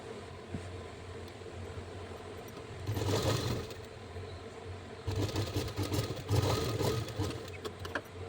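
Sewing machine running in two bursts while stitching the shoulder seams of a lined blouse with a double seam, a steady mid-pitched whir over a low idle hum, moderately close.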